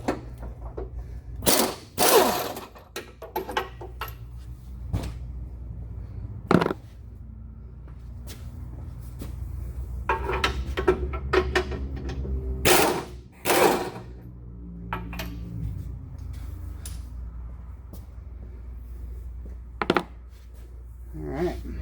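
Ratchet work on the front subframe bolts of a 2017 Ford Transit, with scattered clicking bursts and metallic clunks over a steady low hum in a garage.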